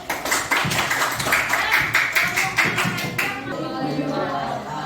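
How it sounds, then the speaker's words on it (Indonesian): A classroom of students claps after a group presentation, a brisk run of clustered hand claps for about three seconds that stops abruptly, leaving quiet room murmur and faint voices. "kalau tidak ada boleh duduk, tepuk tangan dulu"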